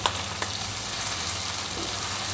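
Sisig frying in a pan while being stirred, a steady close sizzle with a few light scrapes of the utensil near the start.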